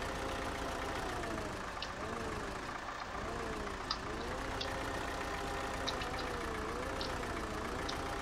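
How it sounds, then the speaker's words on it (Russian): A tractor engine in the Spin Tires off-road driving game drones steadily throughout, its pitch rising and falling as the vehicle turns, with faint clicks on top and no talking. "у нас трактор поворачивается, мы сейчас его догоним"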